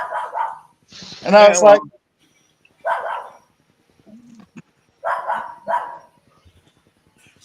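A dog barks once loudly and close, a short burst among casual conversation, with a faint yelp later on as people keep talking.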